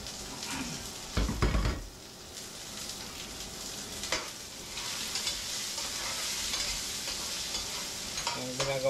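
Garlic and onion sauté in a pan with a steady, close sizzle, broken by a brief loud stirring scrape and a few light clinks of a utensil against the pan.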